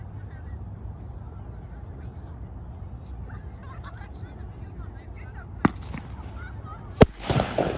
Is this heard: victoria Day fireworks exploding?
yes